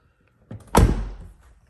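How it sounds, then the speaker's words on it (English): A car door is shut during a winter car wash, giving a single close, solid thunk with a short rattle before it and a brief fading rumble after. No talking. "I'm going to shut this door"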